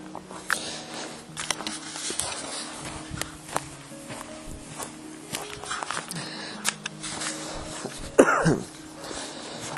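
A person walking through woodland in a nature reserve coughs and clears their throat a few times between soft footsteps, close and fairly quiet against the outdoor calm.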